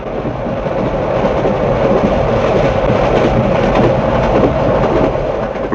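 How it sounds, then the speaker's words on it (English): Loud, continuous rumble and clatter of a passing steam locomotive train, with dense rolling noise and rhythmic wheel clicks close by. "I've never been behind a steam engine before."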